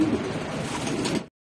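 Racing pigeons coo softly and continuously at close range, a low murmuring burble with no voices, ending abruptly after about a second.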